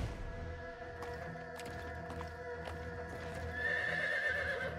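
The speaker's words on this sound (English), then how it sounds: "Lu Bu's horse is dope, though." Lu Bu's horse in the game Wo Long: Fallen Dynasty, neighing repeatedly with galloping hooves over steady game music and battle noise.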